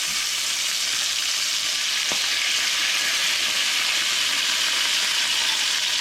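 BBQ sauce sizzles as it hits browned, salted ham in a hot pan, a steady close hiss of frying that runs unbroken with one brief clink partway through.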